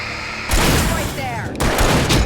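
Gunfire in Alan Wake Remastered on Xbox Series S, a burst of shots starting half a second in and continuing loudly to the end, with a second heavy blast near the middle-late point and a voice shouting over it.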